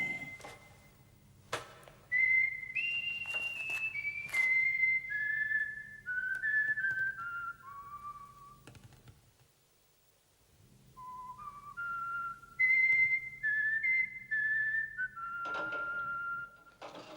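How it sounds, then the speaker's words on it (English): A person whistles a melodic tune alone in a quiet room, clear and close, with phrases of sliding notes, a short pause midway, then more whistled phrases. "And he's whistling. That's a nice whistle."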